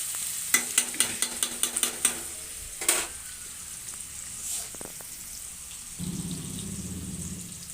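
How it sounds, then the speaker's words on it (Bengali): Onions frying in oil in a pan, with a quick run of sharp utensil clicks and scrapes at the start, then a softer sizzle and a low hum near the end, close and without speech. "পেঁয়াজটা নেড়ে চেড়ে একটু ভেজে নেই লাল লাল করে"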